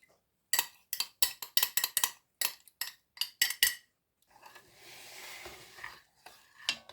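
A spoon scraping and clinking around a pan as stock is stirred into Lord Woolton pie filling, a quick run of sharp metallic strokes, then a soft wet sizzling swirl and a few more clinks, close and clear with no talk.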